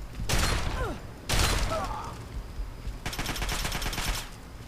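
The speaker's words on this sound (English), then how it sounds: "that 10mm SMG is shredding me, as an SMG should" A 10mm SMG in Fallout 3 fires in loud, rapid automatic bursts, three sharp volleys separated by short gaps, the last one longer and rattling, with faint ricochet-like whines between shots.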